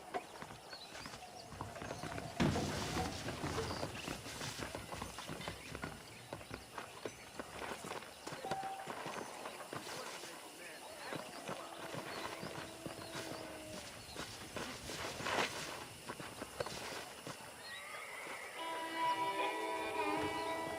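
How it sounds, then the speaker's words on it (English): Horse hooves clip-clop steadily at a walking pace in Red Dead Redemption, soft and fairly close, over quiet ambient game sound and music. "let's see if you can still ride a horse"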